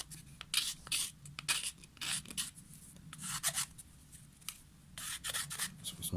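A screwdriver scraping debris out of a STIHL AutoCut C 26-2 trimmer head, quiet, close bursts of gritty rubbing and scratching in irregular short strokes.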